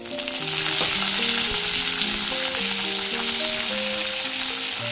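Garlic, ginger and curry leaves sizzle in hot oil, a steady bright crackle that holds throughout, with a soft melodic tune playing faintly behind it.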